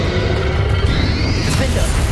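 A Confringo spell blast from Hogwarts Legacy on Xbox erupts as a loud, dense roar that fills the moment with rumbling, crashing noise.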